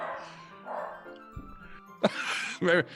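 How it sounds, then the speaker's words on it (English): Dogs bark and yip in the background, a few short barks and whimpers mixed under a murky indoor hum, with a louder bark burst near the end. "Maybe you're more into dogs barking in the background."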